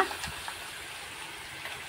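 Tilapia pieces fried in a pan hiss and sizzle with a steady, faint crackle and a few soft stirring clicks, no voices.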